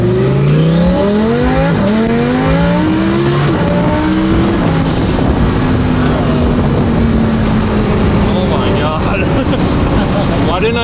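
A twin-turbo Lamborghini Huracan Performante accelerates hard through several gears, its loud engine note rising and dropping at each shift before settling into a sustained roar, with voices audible under the noise.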